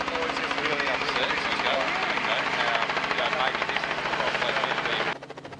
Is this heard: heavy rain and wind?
no